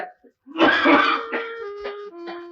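A loud, close cough followed by a few shorter throat-clearing coughs, raspy and voiced, trailing off in quick succession.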